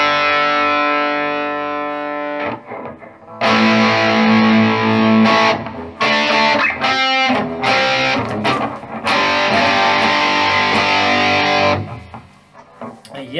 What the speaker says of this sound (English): let's get some distortion going